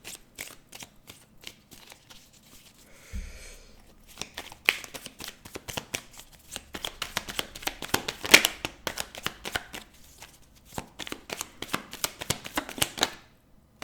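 Tarot cards shuffled by hand, a rapid run of crisp riffling and tapping with a soft thump early on, close and fairly quiet, continuing in irregular bursts.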